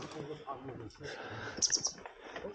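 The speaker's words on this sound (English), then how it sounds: "There's a couple of little birds in there." Small birds give a few bright chirps inside an abandoned mine building, brief high calls heard between people talking nearby in a quiet, enclosed space.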